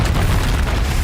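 A Confringo spell explosion in the video game Hogwarts Legacy lands as a loud, short, rumbling boom with a broad burst of noise, heard alone.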